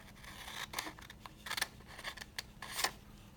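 Scissors snip through a sheet of paper in a few quiet, crisp cuts spaced irregularly, close and faint with soft rustling between them, no voices.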